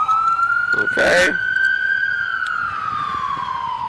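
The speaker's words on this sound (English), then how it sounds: "Let the siren gone by." A passing emergency vehicle's siren wails loudly in one long, slowly rising and falling tone that fades slightly as it moves off, with a brief spoken word near the start.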